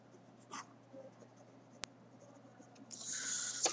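A pen writes on paper during a handwritten math lesson on drawing a frequency polygon, producing soft, faint scratching strokes close by that grow into a steadier, louder scribble toward the end, with no talk.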